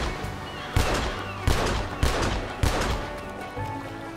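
Four loud, sharp golden revolver gunshots in Red Dead Redemption 2, fired at spaced intervals of roughly half a second to a second, each with a short booming echo, followed by a quieter trailing shot.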